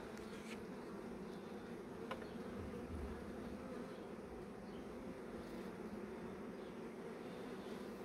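Honeybees hum in a steady, dense drone around a hive mating nucleus, faint yet continuous with no talk, a few individual bees buzzing briefly nearer above the constant swarm tone.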